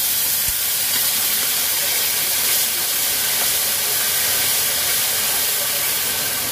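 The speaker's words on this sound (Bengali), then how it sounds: "এটা আদা লঙ্কাটা দিয়ে দিচ্ছি," Ginger and green chili dropped into hot oil left from frying okra, a loud, close, continuous hiss and sizzle lasting throughout without any talk.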